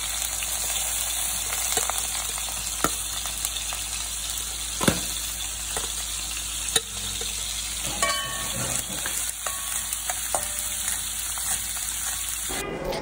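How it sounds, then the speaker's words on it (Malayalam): Garlic and ginger dropped into hot oil in a pan for a cutlet base give a continuous near hiss and spatter, broken by occasional utensil knocks and clatters. "എണ്ണ ചൂടാകുമ്പോ വെളുത്തുള്ളിയും ഇഞ്ചിയും ഇട്ട് കൊടുക്കണം"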